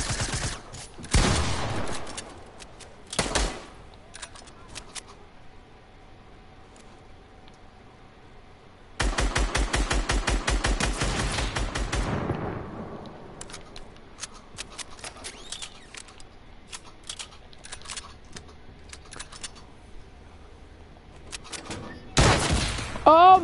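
Sharp bursts of rapid gunfire from the video game Fortnite, separated by quiet gaps with scattered clicks, with a long dense stretch of rapid shots in the middle and a final flurry at the end.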